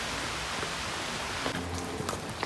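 Rain falling in a forest on a mountain trail on Réunion island, a soft constant hiss of drops on leaves with a few brief rustles close by.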